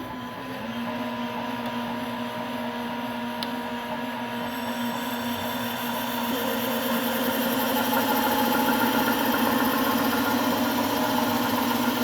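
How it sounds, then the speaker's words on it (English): A lab air compressor runs steadily throughout, a continuous close mechanical hum and whine with a slight rise in level toward the end, no voices. "the second one is this compressor."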